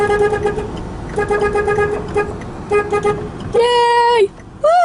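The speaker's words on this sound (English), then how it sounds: "Beep the horns." Police escort vehicles sound their car horns, a run of short repeated toots followed by a longer loud blast and a final brief honk, with voices talking in the background.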